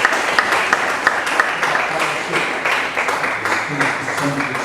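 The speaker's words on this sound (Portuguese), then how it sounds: "aplaudindo a Jesus" Church congregation clapping in praise, a dense wash of applause with sharp bursts, loud and close, with voices mixed in.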